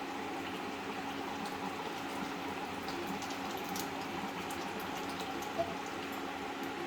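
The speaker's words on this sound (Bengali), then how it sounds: "এটাকে 10 মিনিট সেদ্ধ করতে হবে" A pot of thin chicken curry with potatoes simmering, a soft steady bubbling hiss with faint pops, quiet and continuous with no talk.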